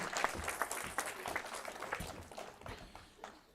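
Applause at a Kiko goat invitational sale, sounding as an uneven patter of clapping from a modest crowd, fairly faint and thinning out over a few seconds.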